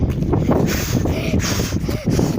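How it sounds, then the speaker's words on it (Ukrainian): Wind buffets the microphone in heavy low rumbling gusts, loud and constant, with a faint tonal whistle briefly audible through the roar. "дуже вітряно"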